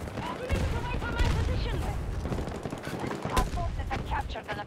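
Rapid automatic fire from an AEK rifle in Battlefield 2042, with bursts of close, loud shots cracking over chaotic battle noise and a voice throughout.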